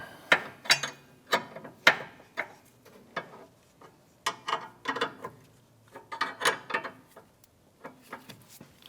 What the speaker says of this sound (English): We're going to use a 17mm wrench on the other side. And we'll just continue snugging this down until it's bottomed out.